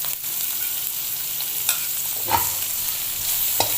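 Ginger hits a hot pan for Batchoy Marinduque with a steady, broadband sizzle, steady and close, marked by a few brief clinks and stirring scrapes.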